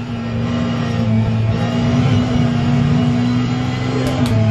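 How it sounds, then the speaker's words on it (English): Audi R15 race car engine in a racing simulator game: a steady, loud, droning engine tone holds throughout, with a faint whine on top. "I'm gonna drive that Audi R15 on here."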